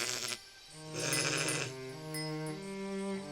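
A sheep bleats in several drawn-out, wavering calls, close and clear, with short pauses between them and no talk.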